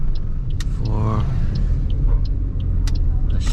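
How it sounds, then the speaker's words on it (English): A 2020 Toyota Aygo 1.0 small city car drives along, its low engine and road rumble steady from inside the cabin, with a brief rising whine and a few light clicks over the hum. "it's a small city car"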